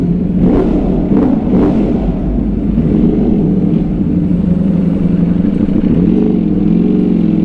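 A Ducati motorcycle rides along a highway between Hubli and Belagavi, its engine rumbling loud and steady with wind roar, the pitch rising and falling slightly as the rider accelerates, with no talking.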